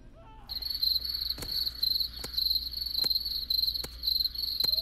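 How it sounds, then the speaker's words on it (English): Crickets chirp in a steady, high-pitched pulsing trill, with a few sharp clicks scattered throughout and no talking. "Crickets. All I hear is crickets."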